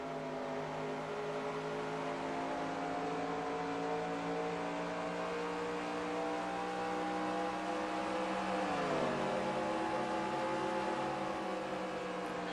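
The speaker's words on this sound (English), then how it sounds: "See if we can give a listen on board Rick Castle's car" An onboard race car engine in a racing video game at Nashville Superspeedway holds a continuous high whining drone with layered tones, dipping briefly in pitch before steadying, with no voices.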